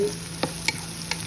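Onions frying in a pressure cooker pot, giving a steady soft sizzle with a few brief scraping stirs of a utensil, close by and with no talking.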